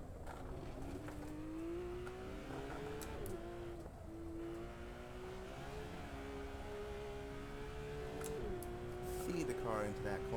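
A race car engine revs in the Assetto Corsa video game, a sustained whining drone that climbs through gears with upshift steps, steady and fairly close, with talk over it.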